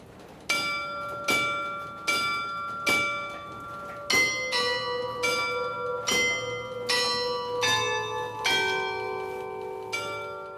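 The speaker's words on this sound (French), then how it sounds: "En fait, on attache une corde au battant de la cloche. Pendant une demi-heure, à chaque minute, on sonne un coup" A church bell is struck by its clapper pulled on a rope, ringing about a dozen single clear strokes at roughly one-second intervals, each tone ringing on and overlapping the next, heard at moderate distance.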